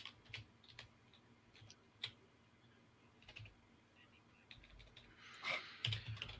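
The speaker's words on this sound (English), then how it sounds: "Typing all the digits." Digits are typed on a computer keyboard as sparse, faint clicks and taps spread unevenly through a quiet room, ending in a slightly busier cluster of keystrokes, with no talking.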